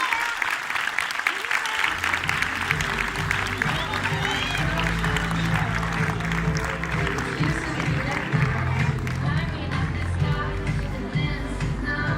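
Sustained audience applause at an evening event, a thick, even roar of clapping that continues for the whole span, with voices talking over it and a low steady tonal hum beneath from about two seconds on.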